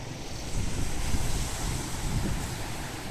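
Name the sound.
Caspian Sea beach with waves and wind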